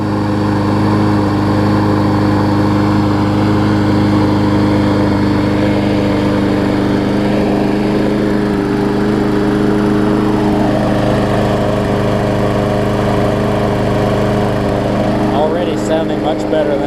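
Troy-Bilt TB360 lawn mower engine running steadily after a carburetor cleaning, a loud, continuous close-up drone with little variation in pitch.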